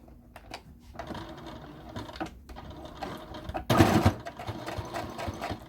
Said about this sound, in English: I'm going to start in my seams and I'm going to do a top stitch.